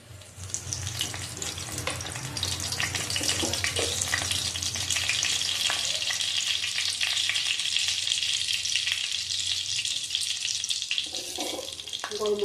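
Bay leaves frying in hot oil in a pan, a continuous close hiss of sizzling with crackle and light stirring scrapes, steady and moderately loud throughout, no talking.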